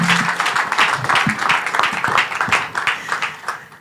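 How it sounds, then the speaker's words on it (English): A room full of people at a conference panel session claps steadily, a dense patter of applause that slowly thins toward the end. "A round of applause for her."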